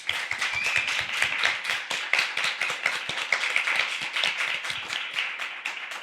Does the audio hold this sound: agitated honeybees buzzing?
no